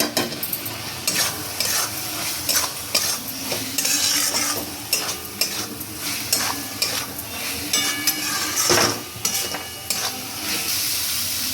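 Fried potatoes being stirred into cooked masala in a pan for chhanar dalna, a steady sizzle broken by repeated scraping strokes of a spatula and occasional metal clinks, close and continuous with no talking.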